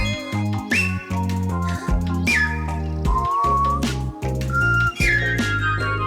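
Several short whistled notes, some sliding upward, sound over a steady backing of children's song music with a sustained low tone.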